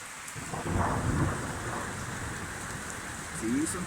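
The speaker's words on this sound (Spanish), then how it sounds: "Sí, son truenos." Thunder rumbles low and fairly close through heavy rain in Huancaya, one swelling roll early on and a softer rise near the end, over a constant rain hiss.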